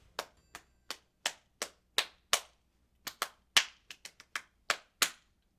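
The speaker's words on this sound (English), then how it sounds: "Clap again." Hands clap sharply about fifteen times in short bursts with uneven gaps, each clap crisp and close, with no talking.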